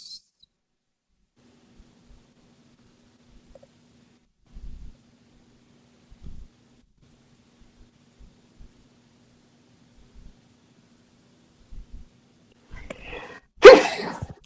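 One sharp, close sneeze bursts out near the end of a mostly silent stretch broken only by faint thumps and a low hum.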